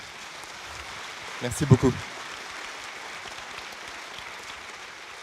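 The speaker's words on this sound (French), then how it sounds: "je vais vous demander de l'applaudir parce que c'est un beau travail." An audience at a French history talk applauds, a steady wash of many hands clapping throughout, with a short spoken thank-you rising above it midway.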